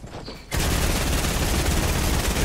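Loud, dense automatic gunfire in a video game kicks in abruptly after a brief quieter start and keeps up as a steady, unbroken roar of rapid shots.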